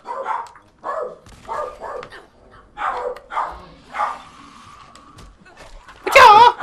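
Dogs bark in short repeated bursts in a Fallout 4 game scene, spaced about a second apart, with a louder, harsher burst at the end; a player's voice is also present.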